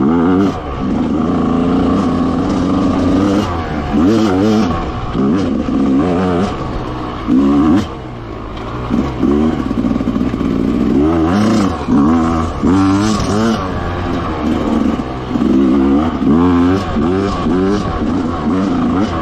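An enduro motorcycle ridden by a first-time rider roars at full throttle close by, its engine climbing and dropping through repeated revving surges for the whole stretch, loud and continuous.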